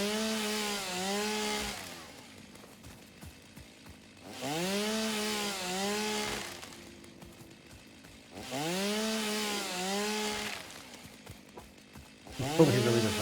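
A chainsaw in the video game Satisfactory, used while clearing biomass, revs in three long bursts separated by quieter idling. It sounds close and rises and falls in pitch with each rev.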